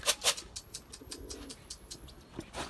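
Pigeons from Adana flying stock in 40-degree heat, outdoors: a soft low cooing under sharp flapping or clapping sounds and faint ambient noise.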